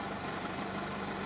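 A Toyota 86 TRD 14R60 with a stock engine, modified driveline and sound insulation removed, idling steadily with a low, even pulsing rumble that fills the cabin, no voices over it.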